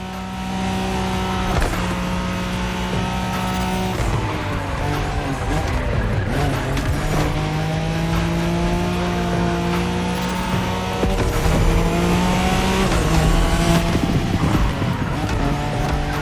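A Nissan Skyline, the car nicknamed Godzilla, races in the driving game The Crew, its engine droning loudly and steadily while tires squeal and skid through the corners.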